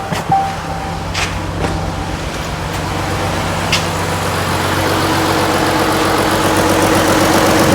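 A 2017 Jeep 3.2 engine with a misfire cranks and catches, then settles into a steady, close idle with a low rumble and a slightly uneven pulse, with a few sharp clicks early on.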